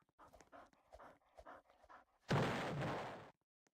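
A dog in the Roblox game Steal a Brainrot pants in quick rhythmic breaths, followed by a sudden loud, noisy burst lasting about a second before things fall quiet.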